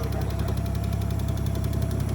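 A car engine idles steadily after an exhaust manifold leak repair, giving a continuous close, loud low rumble with an even pulsing throb and no break.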